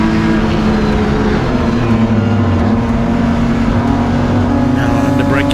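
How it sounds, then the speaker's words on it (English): BMW M Performance Parts race cars in a Class D circuit race hold a steady, loud engine drone at close range, with a commentator talking over it throughout. "Perfectly placed BMW there from Ari van Heerden"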